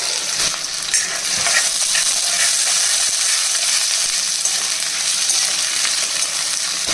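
Onion and green chilli pieces frying in hot oil, a steady bright sizzle with crackles and occasional stirring scrapes, close and continuous without talk.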